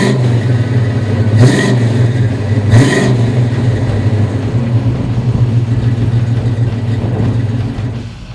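A 1965 Pontiac GTO engine runs loud and close with a deep rumbling idle, two sharp revs early on, then a steady throaty idle that eases slightly at the end.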